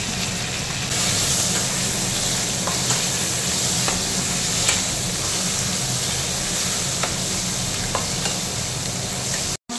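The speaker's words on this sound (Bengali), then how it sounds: "মাছের মাথাটাকে খুব ভালো করে এপিট ওপিট করে ভেজে নিচ্ছি" A fish head fries in oil with a dense, continuous loud sizzle and occasional light pops, close up and steady with no one speaking, cutting off abruptly at the very end.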